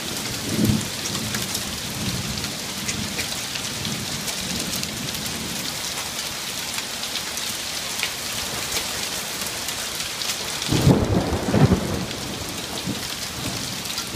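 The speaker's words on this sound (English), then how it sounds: "In the middle of a big old hailstorm." Heavy hailstorm with pea-sized hailstones in southwest Ohio, a dense steady hiss of hail and rain pelting surfaces throughout, with a louder burst of impacts or a rumble near the end.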